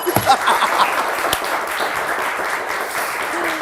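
A studio audience at a Turkish word game show gives a modest, fairly even round of clapping that holds at a moderate level throughout.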